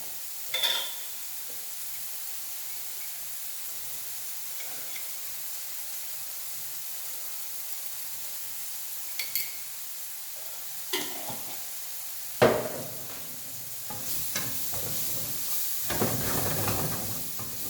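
Mushrooms frying with salt, pepper and oregano sizzle steadily in a pan, with occasional stirring scrapes and clatters that grow busier toward the end, close and fairly quiet.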